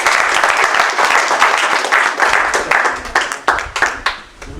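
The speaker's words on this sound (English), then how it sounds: "Can we give them one more round of applause?" A closing round of applause at a student government association meeting, many hands clapping close by, loud and brisk at first, then thinning into scattered individual claps as it dies away.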